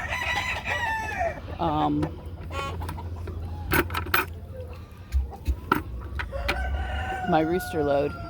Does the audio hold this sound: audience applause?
no